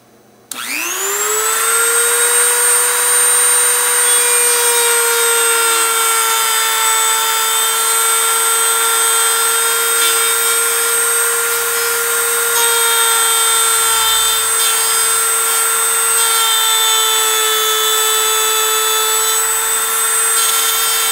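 A handheld router cuts the binding and purfling channel into a wooden guitar headstock, freehand at a set depth: the motor spins up, then holds a loud, steady high-pitched whine with slight dips as it bites into the wood, alone.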